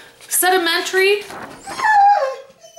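A pet dog whimpers and howls in drawn-out, wavering cries that rise and fall in pitch, loud and close, mixed with a person's talking.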